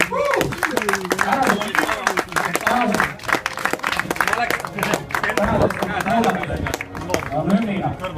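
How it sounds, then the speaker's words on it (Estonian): An audience applauds at a motorsport awards ceremony, dense clapping running throughout with cheering, while a presenter speaks loudly over it. "No nii, aplaus!"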